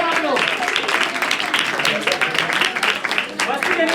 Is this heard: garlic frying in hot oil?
no